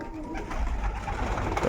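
Pet pigeons coo softly in a loft or coop, a low murmuring burble that runs steadily through the moment with no one speaking.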